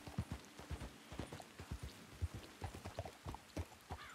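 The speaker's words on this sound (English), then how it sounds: "Horse does not want to stall." Horse hooves clip-clop at a steady, close gallop-like rhythm in the Red Dead Online video game, a dense run of distinct thumps with no voices over them.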